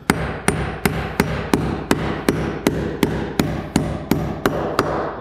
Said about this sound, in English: Now what I'm gonna do is I'm just gonna get a nail started.